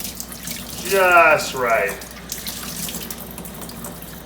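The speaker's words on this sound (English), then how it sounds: "I'll get some warm water going." Warm water runs steadily from a tap into a sink, a constant gentle splashing stream while a person speaks briefly over it.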